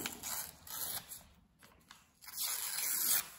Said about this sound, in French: donc on a déchiré les bouts